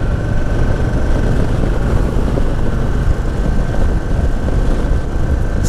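An Indian Sport Chief motorcycle opened up in third gear near 3,000 rpm, its loud, steady engine rumble largely buried under heavy, continuous wind roar.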